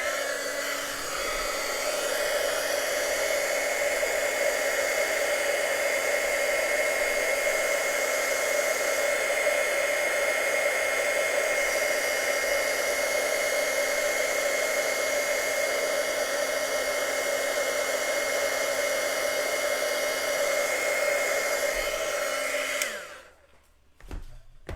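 A heat gun warms an embossed card for an autumn canvas craft project: a loud, steady blowing whir holds for about twenty-three seconds and then cuts off abruptly, leaving a few faint handling noises.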